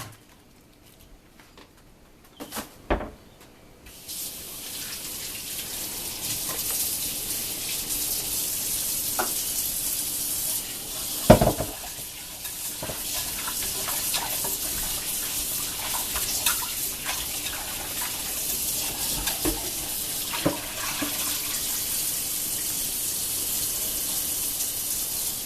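Water runs steadily from a kitchen tap in an extended-stay hotel kitchen while spaghetti is being made. The stream starts after a few clicks and knocks, then gushes loud and constant, with occasional clunks from dishes.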